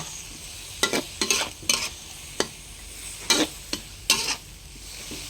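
Beans being stir-fried in a pan, with bursts of scraping and sizzling as the spatula tosses them in quick irregular strokes, close and fairly loud, and no talking.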